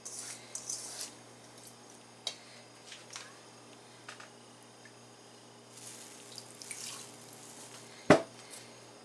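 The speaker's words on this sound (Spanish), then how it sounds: "Y ahora sí vamos a enjuagar este, este col, que es lo único que nos falta." Tap water runs softly into a sink while red cabbage is rinsed for a spicy pickled cabbage, a faint steady flow broken by small splashes and one sharp clunk near the end, with no speech.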